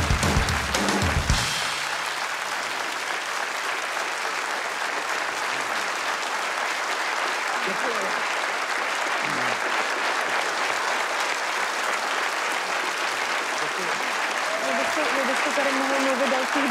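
A studio audience at a Czech talk show claps steadily for over fifteen seconds, dense and sustained applause filling the room with no voices on top.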